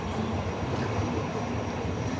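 Train at an underground station in the basement of a museum in Bonn, a steady loud rumble of rolling rail cars filling the space without a break.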